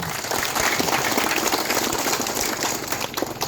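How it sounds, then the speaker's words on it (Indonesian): Dense, steady applause from an outdoor crowd at a ceremonial chili-planting event with the governor of NTT in Forekmodok village, Malaka, continuous and fairly loud throughout. "Mari kita berikan tepuk tangan untuk Pak Gubernur."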